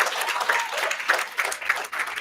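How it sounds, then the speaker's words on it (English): An audience at a live event claps steadily in a dense burst of applause that stays even and fairly loud throughout. "can we give a round of applause"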